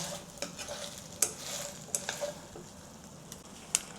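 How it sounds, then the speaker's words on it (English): Beef stir fry with ginger and scallion is stirred in a hot pan, a steady sizzle broken by several sharp scrapes and clicks of the utensil against the pan, close and fairly quiet, with no talking. "return the ginger and the white section of the scallion, the green section of the scallion, and mix everything together"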